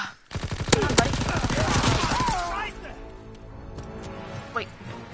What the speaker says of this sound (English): So all of those shots apparently don't kill them?